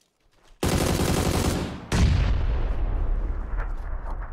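A grenade explodes in the battle royale game PUBG: one sudden, loud, close blast roars and cuts off, then a second deep boom rumbles and slowly fades.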